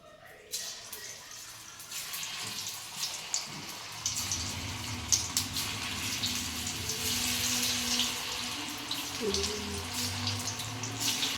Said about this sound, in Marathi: आता मस्त आपल्या कुरड्या तळून घ्या